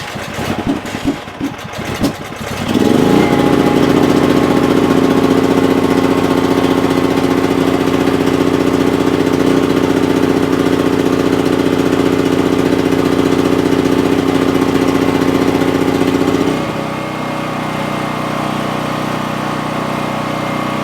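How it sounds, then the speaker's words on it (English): A dual-fuel home generator engine sputters and cranks from push-button start, then catches into a loud, steady idle, slightly uneven and lumpy with the choke not fully open, dropping to a lower, quieter idle near the end. "That rough idling was due to the fact that the choke was not fully open."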